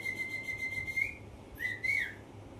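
A shrill finger whistle holds one steady note for about a second, then after a short pause two shorter, rising whistles follow.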